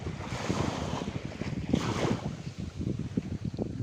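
Sea waves rolling in and breaking on the shore, a continuous rushing wash with repeated surges, heard close with wind buffeting the microphone.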